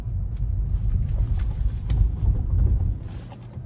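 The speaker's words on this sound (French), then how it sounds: "C'est parti, j'accélère un coup et puis je vais faire un freinage." A rear-wheel-drive Tesla Model 3 accelerates and then brakes on a snowy road, heard from inside as a low, fluctuating rumble of tyres and wind that swells and eases over a few seconds, with no speech.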